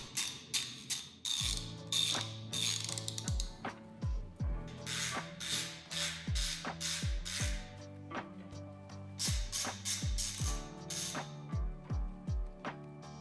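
Removing T25 Torx panel screws from a LiveWire S2 Del Mar electric motorcycle with a ratchet, giving rapid clicking pawl ratchets in repeated short bursts, close and fairly quiet.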